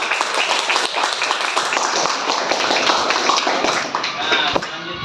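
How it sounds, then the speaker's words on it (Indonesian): An audience at an Indonesian university teacher-training class presentation applauds with continuous dense hand clapping, moderately loud, with voices mixed underneath. "Tepuk tangannya mana?"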